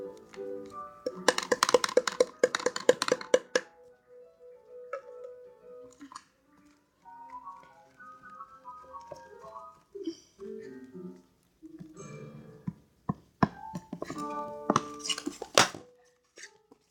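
Slime made with glue being stirred in a plastic bowl gives off intermittent sticky clicks, squelches and tapping bursts, close and fairly quiet, with short pauses between the stirring strokes.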